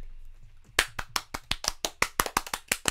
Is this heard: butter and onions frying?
no